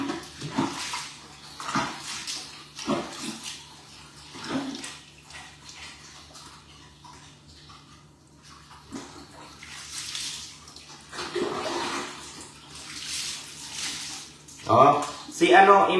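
Bursts of running water while a dog is bathed, splashing and pouring in uneven spurts with quiet gaps between, while a person talks throughout.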